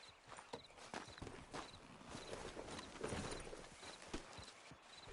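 In Red Dead Redemption 2, a horse's hooves clip-clop in an uneven walking rhythm, clear and fairly close, over a soft outdoor ambience of wind and faint chirps, with no one talking.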